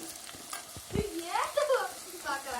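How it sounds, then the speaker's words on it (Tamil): Onions sauté in a pan with a soft sizzle and scraping stirs, fairly quiet and close, mixed with some tonal, voice-like sounds. "வெங்காயம் நல்லா வதங்கிட்டுருக்கு"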